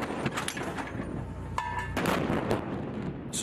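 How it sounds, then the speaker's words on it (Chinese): A new-type artillery gun fires live rounds at a high-plateau combined-brigade exercise, with a broad, rumbling wash of blasts and reverberation and a few sharper reports punctuating the continuous noise. "一轮打击后，官兵们充分发挥新型火炮机动优势，转移炮阵地，再次实施火力打击。"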